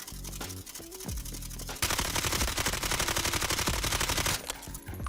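Automatic gunfire in the Delta Force video game, in a solo PvP match: short, rapid bursts of shots, a brief pause, then a long, loud, sustained stream of fire that ends abruptly, followed by a few more scattered shots.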